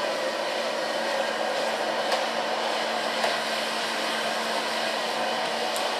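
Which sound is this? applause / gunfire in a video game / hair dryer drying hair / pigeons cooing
hair dryer drying hair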